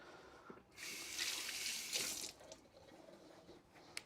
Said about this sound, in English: I'm just going to wash my hands, be right back.